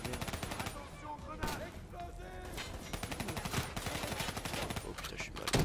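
Rapid automatic gunfire from a weapon in the Black Ops 3 shooter game, with dense bursts of shots that run almost continuously and stay loud and close throughout.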